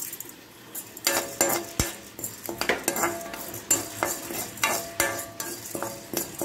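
Pirandai (veldt grape) is stirred and sautéed in a pan, with a metal spoon scraping and clinking against the pan in repeated strokes over a faint sizzle.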